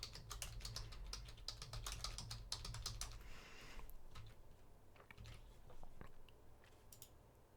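Rapid computer keyboard typing while entering data into a spreadsheet, a dense run of close, crisp key clicks that thins out into scattered taps toward the end, with no talk.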